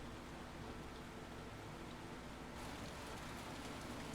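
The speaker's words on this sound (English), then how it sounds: "And the rain is so loud." Steady heavy rain in the video game Heavy Rain hisses continuously, dense and loud, with no voices.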